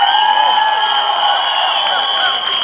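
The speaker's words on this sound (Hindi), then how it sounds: "परेश रावल जी के लिए तालियां बजाइए दोस्तों." Audience applause and cheering for actor Paresh Rawal at a live stage event, a dense sustained wash of clapping and crowd noise filling the whole stretch at steady loudness.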